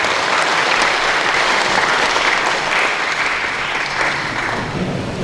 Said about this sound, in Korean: 박수로 맞으시면 고맙습니다